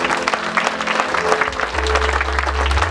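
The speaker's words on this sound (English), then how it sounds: "Haya, tupigie Yesu makofi." A church congregation at a funeral service bursts into dense, sustained applause for about three seconds, with a low rumbling hum underneath and no clear voices.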